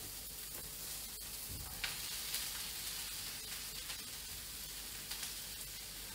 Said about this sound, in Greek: ρίχνω μέσα και τα μανιτάρια